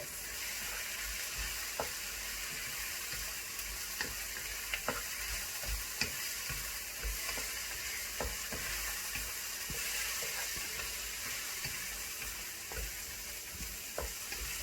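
Onions frying in a pan until golden, a steady close sizzle with frequent small pops and crackles and the odd stir, running throughout with no voices.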